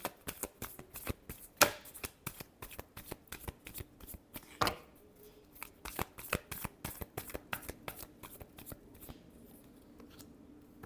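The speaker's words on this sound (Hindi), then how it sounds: "last shuffle" Tarot cards are shuffled in quick, crisp riffles and slaps, a close, rhythmic flutter with a couple of sharper snaps, fairly quiet and with no talking.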